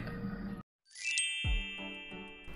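A subscribe bell ding sound effect rings out as a single bright chime after a brief silence, then lingers and fades over a tinkling jingle during a Little Nightmares 2 gameplay session.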